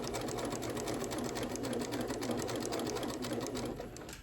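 A sewing machine stitches quilt fabric at about a 3mm stitch length, with a steady, fast, close mechanical whir and rhythmic needle tapping throughout.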